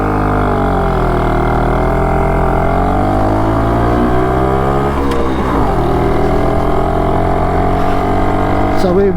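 BSA Bantam motorcycle engine ticking over at steady idle, a continuous close, loud buzzing drone with a slight pitch wobble midway, with no talk over it.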